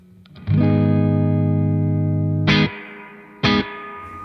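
Guitar played through the spring reverb of a Game Changer Audio Light Pedal: a sustained distorted chord rings for two seconds, followed by two short, sharp strums with splashy spring reverb tails.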